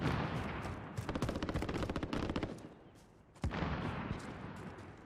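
Rapid bursts of gunfire in Call of Duty: Warzone crackle in quick succession, a dense volley that pauses briefly before another loud burst erupts.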